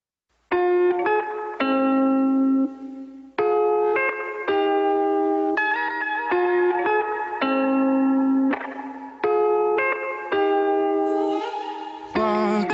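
A demo recording of a singer, his voice carrying a bright melodic line in phrases over a clear tonal backing, steady and moderately loud, with no talking over it.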